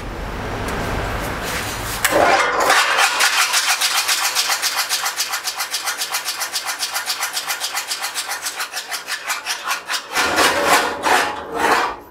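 A horizontal flywheel chaff cutter with a pulverizer starts up and runs loud and close, its blades chopping in a fast steady rhythm that slows toward the end before a final burst.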